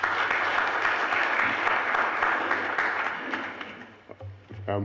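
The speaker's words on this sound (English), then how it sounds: "Can we give him a round of applause, please?" Church congregation at an Igbo Anglican Sunday service applauding together, a steady wash of many hands clapping at moderate loudness that thins out near the end, with a few scattered claps and a low hum underneath.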